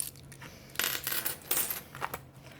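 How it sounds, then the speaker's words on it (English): Coins tumble out of a cash envelope onto a surface, a few quick bursts of bright metallic clinks and jingles, close and fairly quiet. "And the coinage comes out. Much more coins in this one."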